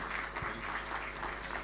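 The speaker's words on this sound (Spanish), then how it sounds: "un fuerte aplauso para Maxi." Audience at a regional forum on productive innovation in Paysandú gives a quick burst of applause, a dense, steady patter of clapping, brief and somewhat distant.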